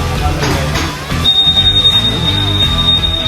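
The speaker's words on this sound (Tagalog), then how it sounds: "itong bagong V4 pala na Click is meron na alarm" On a Honda Click 125 V4 scooter, the find-me alarm gives a loud, high-pitched electronic tone that starts about a second in and holds steady, close to the microphone, over a busy background.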